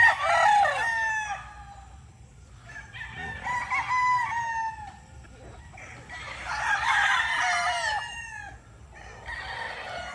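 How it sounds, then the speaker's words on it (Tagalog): Roosters crowing and chickens clucking at a gamefowl farm on a rainy day, several overlapping crows in bursts over a low background hum, moderately close. "Titingnan natin yung mga manok ni GTP Game Farm."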